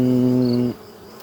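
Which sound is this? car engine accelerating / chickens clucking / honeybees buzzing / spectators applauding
honeybees buzzing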